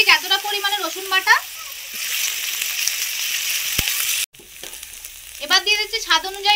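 Onion paste and garlic paste frying in oil in a village kitchen, a bright steady sizzle running beneath a voice, with a sharp clatter near the middle.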